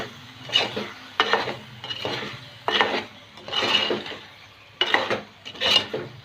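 Potato masala stirred with salt in a pan, heard as a close series of six or seven scraping, rubbing strokes of a spoon against the pan with brief pauses between them.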